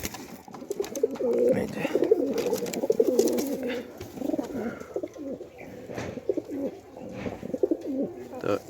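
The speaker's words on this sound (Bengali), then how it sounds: "তো এই হচ্ছে ধরা কবুতর আর কি" Pigeons, including a newly caught one, coo in low, throaty, repeating phrases close by throughout, with a brief spoken word from a person partway through.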